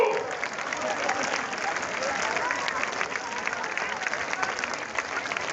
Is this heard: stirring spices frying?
no